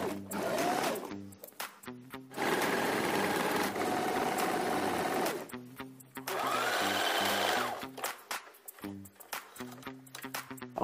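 A sewing machine stitches fabric for an instant hijab, running in two long bursts of rapid mechanical whirring separated by pauses with clicks and handling of the cloth.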